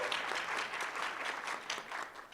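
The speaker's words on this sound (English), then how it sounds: "let's give the first panelist a huge round of applause" An audience at a health summit panel session claps for the first panelist in a full, dense burst of applause that holds steady throughout.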